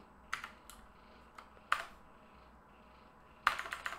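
Keystrokes on a computer keyboard while coding a Discord bot, appearing as a few sparse clicks followed by a quick burst of typing at the end, close and crisp over a low hum.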